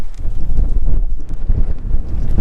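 Strong wind on the Bilbunya Dunes in remote Australia buffeting the microphone in heavy, gusty rumbles, loud and continuous for a few seconds with no talking.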